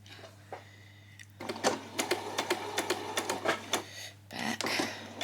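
A sewing machine stitches a straight seam across fabric for a peasant skirt, running in close, rapid bursts separated by short pauses and a longer stop before a final run, with no talking.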